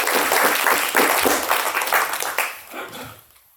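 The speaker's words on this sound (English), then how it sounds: "I hope you could hear us clapping for you." Applause from an audience after a lecture on windows in British architecture and visual culture, dense clapping that swells and then fades away within a few seconds.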